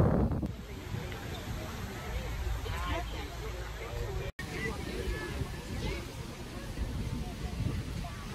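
Steady outdoor wind buffets the microphone with a constant low rumble and hiss on a windy day at a Memorial Day parade in West Windsor Township, New Jersey, with a faint crowd murmur underneath.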